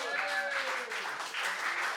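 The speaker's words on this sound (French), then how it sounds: "Et on l'applaudit jusqu'à temps qu'il arrive sur scène" Bar crowd at a slam poetry tournament applauds as a poet walks up to the stage, a steady wash of clapping with a person talking over it at the start.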